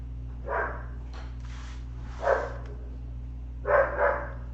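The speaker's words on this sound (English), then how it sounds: "my dogs are going nuts" Dogs bark indoors, heard as a few short, muffled bark bursts at a moderate distance over a steady low electrical hum, with no talking.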